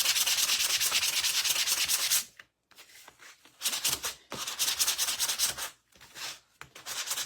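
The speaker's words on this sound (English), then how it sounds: "we're going to sand this just a smidge" A small handheld sander works over a wooden Santa boot from a DIY Christmas decor kit. It gives a steady rasping hiss in bursts, with several brief pauses between passes.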